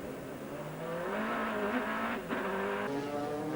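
A 2003 American Le Mans Series race car brakes hard behind a couple of GT cars, its engine note dropping in steady downshifting tones with a brief tire scrub, loud and continuous throughout.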